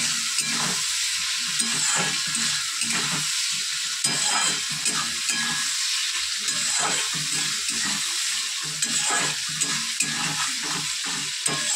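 Cumin and chilli spice paste frying and being stirred in a pan for Bengali fish kalia, a steady close sizzle with repeated scraping stirs throughout.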